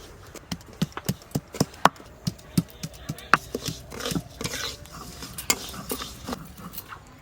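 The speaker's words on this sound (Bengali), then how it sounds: "এবার আদা রসুনটা বেটে নেব" Ginger and garlic crushed on a grinding stone, giving a run of sharp, irregular knocks and scrapes close by, louder and busier toward the middle, with no voices.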